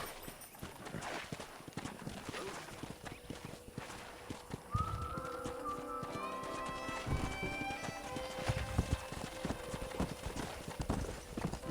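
Wild horses' hooves clip-clop rapidly in a galloping rhythm, with a horse whinnying partway through, close and clear against an outdoor backdrop, in the video game Red Dead Redemption on PS3.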